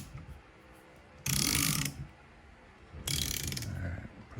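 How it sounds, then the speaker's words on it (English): Ratchet wrench cranking a 17 mm socket on a router shaft during a bearing repair, two loud close bursts of rapid clicking separated by a short pause. "this one takes a 17 millimeter socket, so I'll crank on that"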